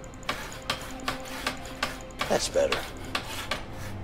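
Repeated metallic hammer strikes on nails in the co-op video game A Way Out, about nine sharp knocks in a steady rhythm, fairly close and moderately loud, with no talk.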